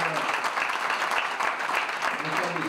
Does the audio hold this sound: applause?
yes